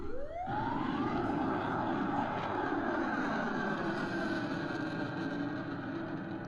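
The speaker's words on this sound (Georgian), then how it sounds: "ეს არის საჰაერო თავდაცვის სისტემიდან რაკეტის გაშვება იმისთვის, რომ მოიგერიონ უკრაინული დრონი ან რაკეტა" An air defense system launches a missile to intercept a drone or missile over a beach: a loud, sustained rushing roar fills the scene while a siren's tone climbs and holds behind it.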